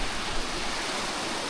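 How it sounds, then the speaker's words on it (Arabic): A loud mountain river in the Dolomites rushes past a campsite in northern Italy, a steady, close, full roar of flowing water with no voices. "النهر جنبنا ان شاء الله نقدر ننام بهدوء، لان في النهر هذا صوته شوي عالي"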